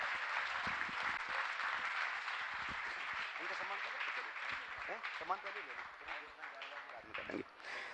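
A large gathering at a Jain monk's religious discourse claps continuously, with broad applause that thins toward the end as a voice talks over it.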